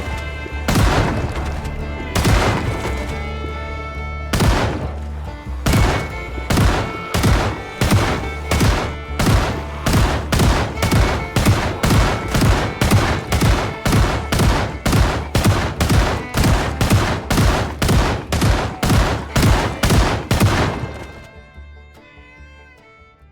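Rapid series of loud shotgun blasts in the zombie survival game Project Zomboid, a few spaced shots first and then dozens of evenly timed booms in steady rhythm before falling quiet near the end.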